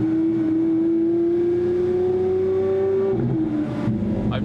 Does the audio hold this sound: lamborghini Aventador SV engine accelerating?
yes